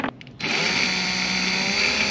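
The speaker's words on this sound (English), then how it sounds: "I'm gonna pre-drill the hole." After a brief quiet moment, a power drill whines up to a steady high-pitched spin, running continuously as it bores a pilot hole into wood.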